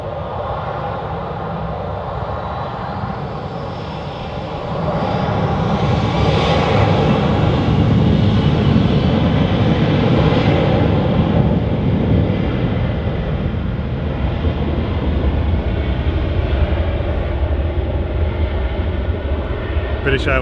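A Boeing 737 in classic off-white colours with big blue winglets roars steadily at an airport, a loud, continuous jet engine rumble that swells partway through and holds for the rest, heard from a distance, with people talking over it.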